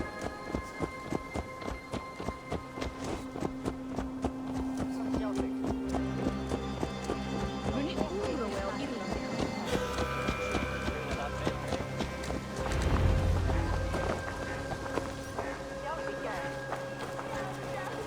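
Horse hooves clip-clop and gallop in the video game Assassin's Creed Valhalla, a steady rhythmic patter up close under game voices and music.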